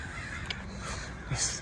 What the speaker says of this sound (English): There's Crow.